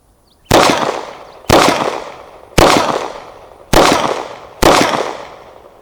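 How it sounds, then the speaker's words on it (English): Five sharp revolver shots from a Ruger LCR at an outdoor range, spaced about a second apart, each loud and close with a quick crack and a decaying echo tail. "And we'll shoot Ruger LCR on the head."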